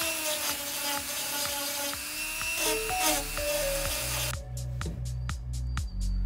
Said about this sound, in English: Then we just travel back to the trusty rotary carver